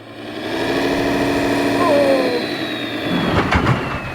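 Tractor engine held at high revs while stuck in a field, a sustained loud drone with a rising whine, faint voice underneath and some clattering near the end.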